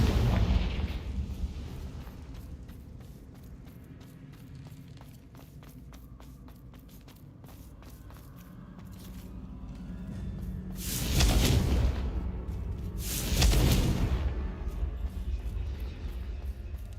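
Confringo blasting spells in a Harry Potter video game set off two loud, broad explosions back to back after a stretch of quieter rumbling and footsteps, the bursts close and booming.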